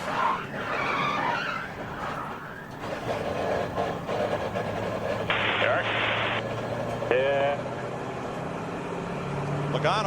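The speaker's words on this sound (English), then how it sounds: "A wild slide into the corner." A NASCAR Sprint Cup car at the 2011 Budweiser Shootout slides into a corner, its tires skidding and engines roaring in a loud, continuous rush of racing noise, with commentator voices partly audible over it.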